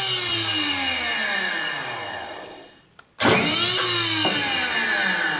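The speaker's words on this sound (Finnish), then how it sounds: "Moottori kyllä pelaa." A winch's electric motor whirs loudly and steadily, winds down to near silence, then a click and it starts up again at full strength, rising briefly in pitch, with no talk.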